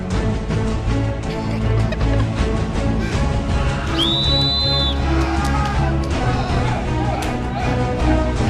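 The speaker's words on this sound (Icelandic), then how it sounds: "þegar ég flauta" A referee's single whistle blast rings out clearly for about a second at an arm-wrestling match, cutting through ongoing talk and crowd noise.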